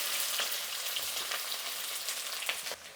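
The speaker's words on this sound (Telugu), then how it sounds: "ఎర్రగడ్డ వేస్తూ ఉన్నాను." Sliced onions sizzle in hot oil with popped mustard seeds while bitter gourd curry is cooked, a steady fizzing hiss with scattered light crackles and pops, fairly quiet and close, with no voices.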